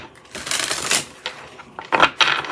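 Tarot cards are shuffled up close, producing quick riffling and flicking bursts in several short runs separated by brief pauses, crisp and fairly loud.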